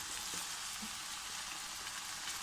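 Cooked rice frying in a pan for egg fried rice gives a steady, soft sizzle with a faint hiss throughout, quiet and even, with no voices.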